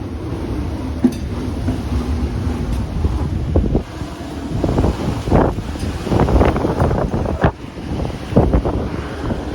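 Extreme storm wind gusting near 90 mph in Massachusetts, roaring and buffeting the microphone in loud continuous rushes with sharper bursts, no talking over it.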